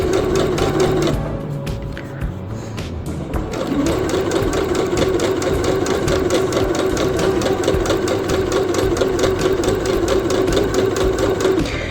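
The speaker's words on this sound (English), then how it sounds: "I'm just going to continue sewing all the way down" A sewing machine runs a 3/8-inch seam down an apron, starting after a short hesitation and then chattering in a loud, fast, evenly rhythmic stitch close at hand.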